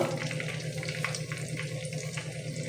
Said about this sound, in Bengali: তিল দিয়ে আলু পকোড়াগুলো আমি তেলের মধ্যে ছেড়ে দিচ্ছি ভেজে নেওয়ার জন্য